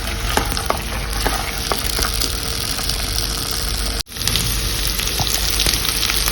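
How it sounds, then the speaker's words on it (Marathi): Rice dry-roasts in a pan for sweet narali bhat, a continuous dense crackling hiss with scattered ticks of grains and stirring, briefly cut by one sudden drop partway through before resuming, no talking. "एक 5 मिनिट आपण असं तांदूळ भाजून घ्यायचं."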